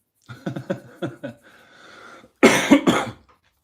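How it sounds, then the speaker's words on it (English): Someone speaks briefly, then lets out two loud, close coughs in quick succession. "sorry, a little bit of a cough there"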